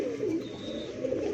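Pigeons coo nearby in a low, rolling, throaty call that sustains through the moment, with a thin faint chirp above and no talk.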